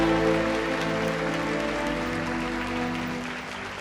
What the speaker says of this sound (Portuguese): Uma linda salva de palmas a Jesus,